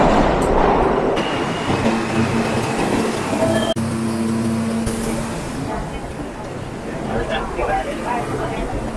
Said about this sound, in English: we're now in the subway and we're going to use the E-train going to JFK